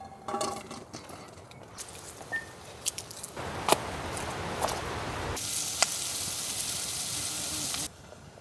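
Onions and tomatoes frying in a pan give a patchy, crackling sizzle with small clicks and rattles, then swell into a loud, steady hiss before cutting off abruptly near the end.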